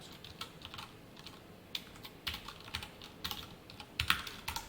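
Steady close typing of code on a computer keyboard, quiet and uneven clicks with a few sharper keystrokes, alone without speech.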